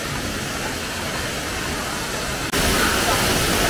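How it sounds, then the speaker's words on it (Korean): A waterfall at Xiaoqikong in Guizhou, China, gushing and pouring with a loud, dense, continuous roar of rushing water that swells slightly louder partway through. "폭포가 막 뿜어져 쏟아지고 있습니다."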